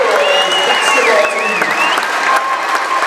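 A big crowd gives sustained, loud applause with cheers to the back-to-back regional champion Lady Wildcats basketball team at a gym, steady clapping throughout with a few whistles over it.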